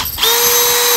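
Milwaukee cordless 12V brushless hammer drill with a 13mm steel chuck, whirring steadily at close range for about a second after a brief quiet start, with a high motor whine and no talking.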